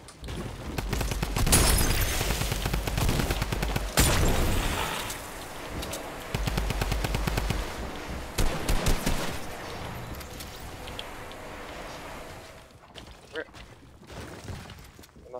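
Rapid bursts of video game gunfire crackle and pop in dense volleys, loud and close, with a few scattered single shots and quieter gaps between the clusters, while players talk over the action.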